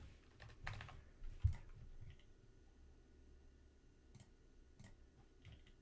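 Soft, quick keystrokes on a computer keyboard tap out in short bursts, with a couple of louder clicks early on and then sparser, quiet taps against a low room hum.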